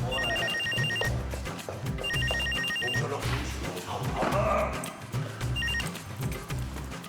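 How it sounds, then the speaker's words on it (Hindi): A telephone bell rings inside in repeated trilling bursts, each lasting about a second, between steady background music. "अंदर फोन बज रहा है"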